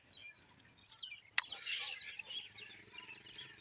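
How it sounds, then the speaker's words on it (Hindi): Birds chirping on a February village morning among green hills, faint scattered tweets and calls over quiet background, with one sharp click partway through. "गांव की सुबह और खूबसूरत परिंदों की आवाज़ें"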